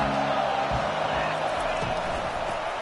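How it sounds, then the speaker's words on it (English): Stadium crowd noise in College Football 25, a dense steady roar of fans beneath a commentator's voice over the game broadcast. "This crowd trying to make life miserable for this offense."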